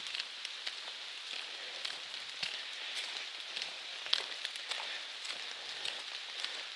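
Steady rain falls on the Appalachian Trail during a hike, pattering densely and evenly on a rain cover and the surrounding ground, with scattered sharper drop hits and no talking.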